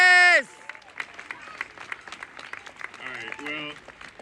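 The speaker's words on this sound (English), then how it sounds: "Give him a round of applause." Applause from the crowd at a Black Lives Matter protest rally, a scattered, fairly faint patter of clapping mixed with whoops and shouted cheers.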